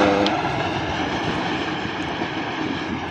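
The 12DN Hazara Express rushes through Rahim Yar Khan Railway Station with a loud, steady rumble of wheels and carriages that fills the whole stretch without a break.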